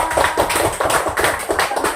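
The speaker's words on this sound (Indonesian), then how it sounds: "Tepuk tangan buat kita semua" A classroom group of students gives a round of clapping during a teaching demonstration lesson, dense and steady with a slightly pulsing rhythm, close and filling the whole moment.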